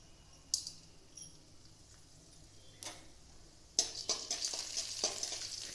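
Chana dal and urad dal drop into hot oil for lemon rice, first a few faint clicks and taps, then a soft crackling fry that builds and sputters nearby, with no talk.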